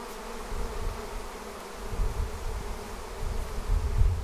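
A swarm of honey bees buzzes in a dense, steady drone that swells and fades slightly, close by and with no voices.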